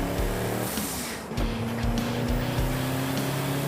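A boosted 1995 Chevy Caprice 9C1 runs on a race track, its engine a loud, close, continuous roar with a steady rhythm of deep low pulses and no voices.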